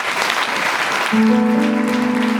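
Church congregation clapping in praise during a Pentecost-season service, a loud burst of many hands joined midway by a steady sung or sustained tone, no speech heard.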